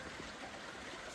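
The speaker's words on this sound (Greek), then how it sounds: "Α, περνάει το νερό. Είναι από το ποτάμι." River water rushing steadily past stones in the Enipeas gorge, a broad, continuous close-up wash of flowing water with no voices.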